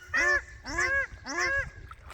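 Farm ducks call noisily nearby, three loud, harsh honking quacks in quick succession, each a drawn-out nasal blare, followed by a fainter call as the group carries on outdoors.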